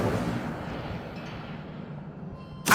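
An Incendio fire spell cast in the Hogwarts Legacy video game gives a rushing, roaring whoosh of flame that fades gradually, ending in a sharp bright burst.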